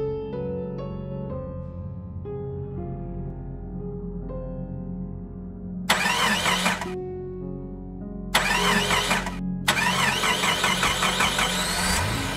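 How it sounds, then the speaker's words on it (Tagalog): A car engine cranks and catches in three loud bursts, each following a short pause, after a stretch of eerie droning music in a Tagalog animated horror story. "Nang saktong paandarin ko na sasakyan"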